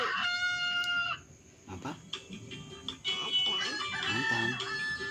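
A rooster crows loudly at the start, followed by clucking fowl and other farm animal noises, with a child and an adult talking over the sounds.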